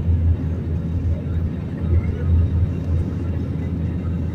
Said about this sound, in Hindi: है हेलीकॉप्टर